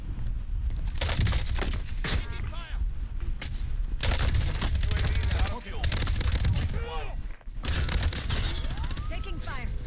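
Gunfire from the Warzone battle royale video game, repeated bursts and volleys of shots crackling loudly through most of the stretch, with a voice talking over the action.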